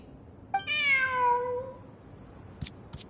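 A cat meows in Genshin Impact, one clear drawn-out meow followed by two faint short clicks, with no talking.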